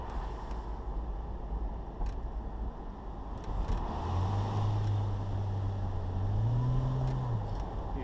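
A 2002 Porsche Boxster S with a Tiptronic automatic accelerates under a kick-down, its engine drone swelling from a low, steady hum and stepping up in pitch as the gearbox drops a gear, heard fairly quietly from inside the car.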